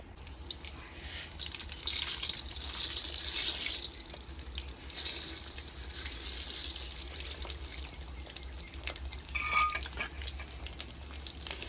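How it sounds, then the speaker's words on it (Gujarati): Edible gum fries in hot ghee for laddoos, giving a continuous crackling sizzle with bursts of bubbling and occasional clinks, close and fairly loud. "આ રીતે ગુંદરને આપણે ઘીમાં તળી નાખવાનો"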